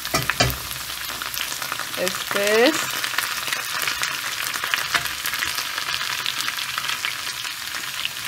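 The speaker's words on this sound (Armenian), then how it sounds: "Իսկ երբ արդեն հասկանում ենք, որ կարտոֆիլը տապակվել է, նորից մեր մսերը լցնում ենք" Pork and potatoes fry steadily in a pan with a continuous sizzle while a spoon stirs them in scraping bursts. A voice speaks briefly over the cooking.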